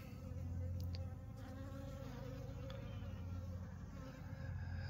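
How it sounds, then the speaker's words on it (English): Bees buzz around on an unusually warm mid-November day while wax is rendered outdoors, a soft steady drone of many insects with the odd nearer pass, faint and continuous throughout. "the bees are out flying"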